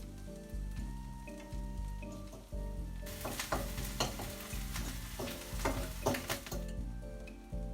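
Hash browns slid back into a skillet fry with a low steady sizzle that swells into loud crackling, with scraping and pressing from a spatula, close up and without voices.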